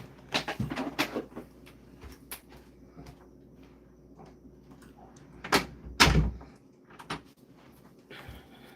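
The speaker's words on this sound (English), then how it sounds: "let me shut the door." A door inside a home is pushed shut, with a few scattered knocks and thumps and one louder, close thud near the end against a quiet room, no voices.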